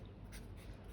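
Pen or chalk writing out a math question for a class on linear equations word problems, a quiet steady scratching with short strokes, faint and close, with no voices.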